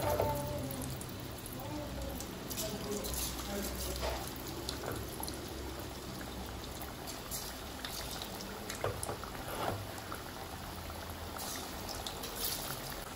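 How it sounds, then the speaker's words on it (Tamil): Bitter gourd chips coated in masala deep fry in a kadai of oil, giving a steady, dense crackling hiss that continues evenly throughout, with no voices. "இப்போ பொரித்து எடுத்துக்கலாம்."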